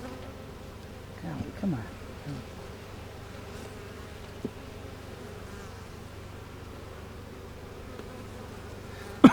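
Honey bees at an open, sluggish beehive give a faint, low, steady buzz in the background, with occasional louder passes of a single bee near the start and a brief exclamation from a person.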